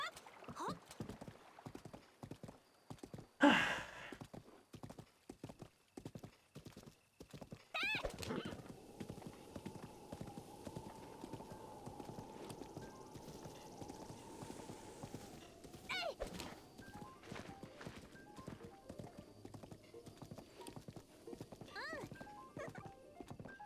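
Horse hooves clopping and a neigh in Zelda Breath of the Wild, rhythmic clip-clop running throughout with a sustained whinny-like tone mid-clip and thuds, mixed with game sounds.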